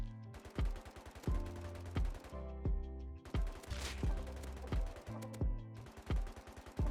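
MP5 in the game Rust fired in short controlled bursts, rapid sharp cracks with brief pauses between groups, close and punchy, with no talking.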